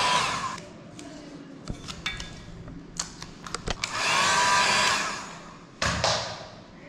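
A hair dryer blows hot air onto a full-frame sticker on a bicycle frame, its whooshing hiss swelling and fading as it moves, broken by sharp clicks and handling taps.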